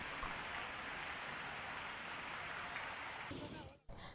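Heavy monsoon rain in a flooded village in Amreli, Gujarat, a steady dense hiss of downpour throughout that cuts off briefly near the end.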